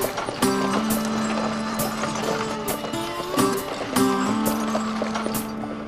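Team of Clydesdale horses pulling a wagon along a rural rail trail, their hooves clip-clopping in an irregular rhythm alongside creaking harness and wagon mechanism noise, fairly close and steady throughout.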